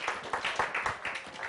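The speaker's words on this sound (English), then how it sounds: "Okay, round of applause." Audience applause after a short spoken AIDS-awareness performance on stage, with bursts of clapping swelling and fading several times over a brief stretch.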